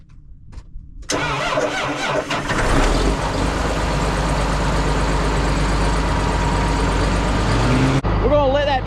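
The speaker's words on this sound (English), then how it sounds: "We're gonna let that tractor warm up a little bit." A John Deere 8530 tractor engine cranks and catches, then settles into a loud, steady rumbling idle that runs nearly the whole time before cutting off abruptly.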